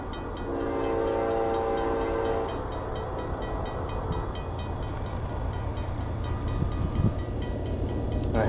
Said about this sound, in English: Here comes a noisy train.